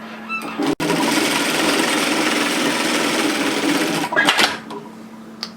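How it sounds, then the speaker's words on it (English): A sewing machine stitches a pocket seam in one steady, close mechanical whir, briefly stopping at the start and pausing near the end with a few clicks. "I'm just going to run a second line of stitching parallel to the first"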